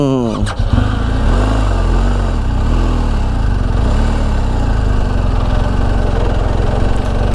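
A motorcycle engine runs loud and close in third gear while riding through Washington DC on a touring trip. The steady drone holds throughout, with a brief rough burst at the start.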